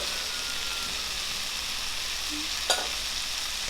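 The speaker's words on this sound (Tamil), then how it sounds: "இப்போ அகெயின் வந்து நல்லா வதக்கி விடுங்க." Tomatoes with salt sautéing in a pan for egg roast, a continuous close sizzle with a couple of brief stirring knocks near the end, no talk.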